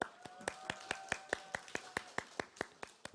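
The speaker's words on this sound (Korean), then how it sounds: "직원들의 아주 커다란 환호가 쏟아졌습니다" Staff at a Korean TV drama press launch applaud a guest introduction with steady, rhythmic clapping, about five claps per second, heard faintly and evenly with no voices over it.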